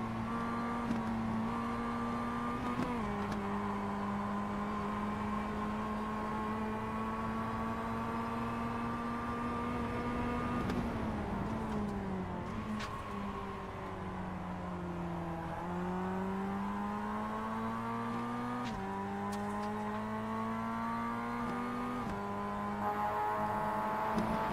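Onboard engine drone of a Mazda MX-5 in a sim racing game at Tsukuba Circuit: a steady, buzzy engine note that rises and falls through gear shifts and corners, with no talk.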